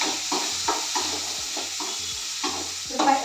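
Chopped onions sizzle in a hot pan while being stirred for soya chunk fried rice, with close, rhythmic scraping strokes over a steady frying hiss and no talk.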